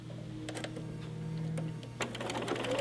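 Sewing machine stitching a fitted fabric face mask, a quiet steady hum with light tapping clicks, pausing briefly before starting up again.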